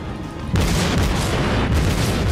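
A heavy naval gun salvo booms in the World of Warships game, one loud, close blast that rolls out into a rumbling tail with a second thump near the end.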